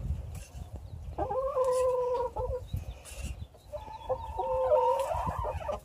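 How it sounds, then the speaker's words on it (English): Chickens give two drawn-out clucking, crooning calls a couple of seconds apart, close and fairly loud over a low rumbling background, with nobody talking. "They're fun chickens."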